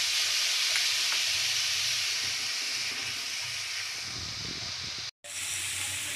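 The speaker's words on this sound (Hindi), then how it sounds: "प्याज को हम हल्का भूरा होने तक पकाएंगे।" Onions frying in oil in a pan with salt, a steady loud bright sizzle and hiss with faint stirring scrapes and a brief cut near the end, no talk.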